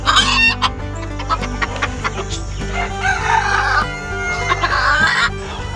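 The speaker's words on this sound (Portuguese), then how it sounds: "Tem esse galo que já é da nossa criação, já é uma mistura de Tsuru com Sebrae." A farmyard rooster of Tsuru crossbreed crows and clucks loudly and close by, with several harmonic crow phrases and short clucks repeating over a few seconds.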